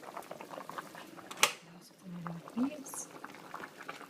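Cooking liquid boils in a pot, a faint bubbling and patter under brief talk from a person nearby.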